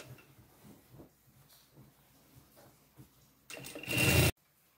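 A sewing machine topstitches elastic onto a pants waistband in one short, loud buzzing burst near the end, after a stretch of quiet handling sounds and faint movement.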